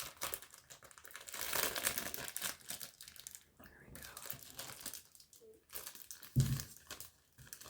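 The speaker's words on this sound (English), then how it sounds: "I think I'm just gonna have to make a loud rip here. I'll use my nails." Fingernails rip open a book's packaging at close range. Crinkly tearing and crumpling come in irregular bursts, and a soft voice is heard in between.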